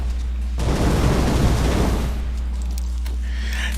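Full-auto weapon fire from a video game gun with a slow pulse perk, a dense loud burst of rapid shots lasting over a second, then fading into a steady hum.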